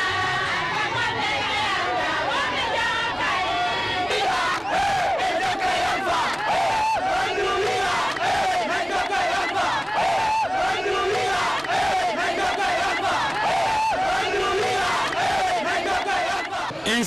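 A large outdoor crowd in Télimélé, Guinea, cheers and shouts in welcome as the president arrives, a dense, continuous roar of voices, whistles and chatter sustained loudly throughout.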